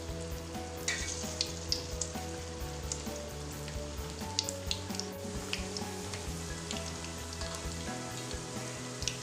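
Balls of rolled dough deep frying in hot oil in a home kitchen, a continuous close sizzle with bubbling crackles and small pops, no voices.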